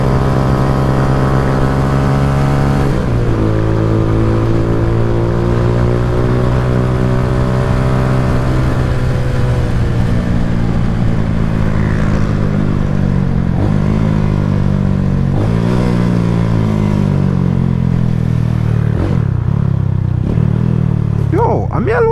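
A motorcycle engine revving up and down in repeated rising and falling surges, loud and close, with a steady engine drone underneath and voices faintly in the background.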